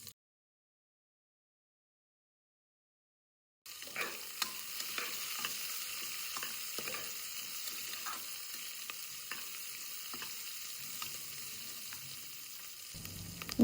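Onions sizzle and fry in a pan with bay leaves, cinnamon and cardamom, with repeated scraping stir strokes over a steady crackle after a silent opening, for a Mangalore-style country chicken sukka.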